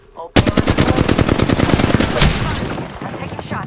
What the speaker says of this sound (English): I'm taking shots! I'm taking fire!